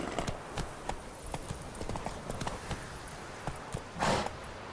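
Roach the horse's hooves clip-clop steadily in The Witcher 3, a run of close, even hoofbeats with a louder burst near the end.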